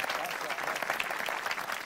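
Studio audience in a televised celebrity cooking competition kitchen applauding the participants, a steady dense wash of clapping with some voices mixed in, continuous and fairly loud throughout.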